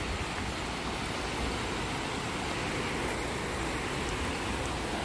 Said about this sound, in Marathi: पाण्याचा आवाज तर आपल्याला ऐकू येतच असेल.